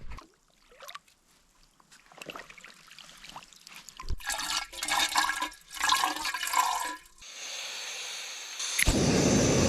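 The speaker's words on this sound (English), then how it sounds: "I'm gonna fill my cup up with some water" Water splashes and gurgles in uneven bursts, ending with a steady hissing stream being poured, close by and fairly loud.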